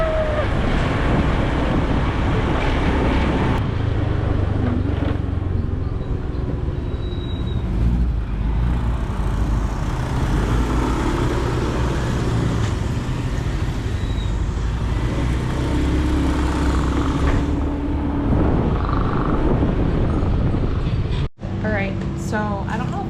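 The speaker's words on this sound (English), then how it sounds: "we got a moped. We've been driving around" A rented moped rides through city traffic in Chiang Mai, giving a constant loud engine drone buffeted by heavy wind noise, with a person talking over it throughout.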